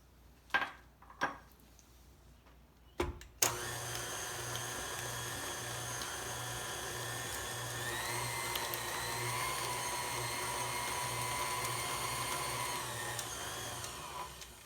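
An electric mixer starts up after a few clatters and runs steadily while beating cake batter with eggs, a loud continuous whine with harmonic overtones that shift slightly as ingredients are added.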